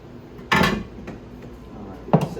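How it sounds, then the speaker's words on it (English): A tool scrapes Uni-Kote residue out of a container in two short, close, clattering bursts, the second briefer, with quiet pauses around them. "Just scraping her down in there."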